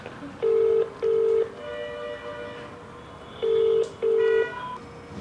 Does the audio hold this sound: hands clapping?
no